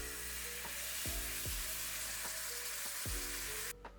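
A roux with beef bouillon is stirred in a pot: a soft, even sizzle with a few dull spoon knocks against the pot at uneven intervals, then a sudden stop near the end.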